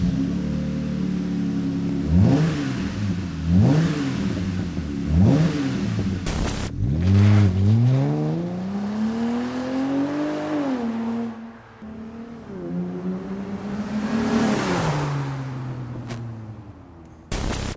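A 2018-2020 Jeep Wrangler JL fitted with an aFe Mach Force-Xp 2-1/2-inch stainless hi-tuck cat-back exhaust starts up and revs: three quick blips, then longer sweeping revs rising and falling, loud and close.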